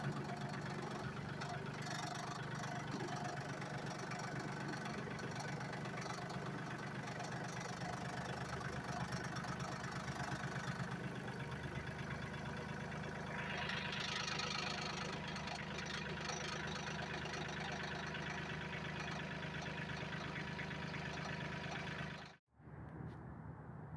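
A steady engine idles at a constant, even rumble, close by, with a brief rise in hiss partway through before it cuts off near the end.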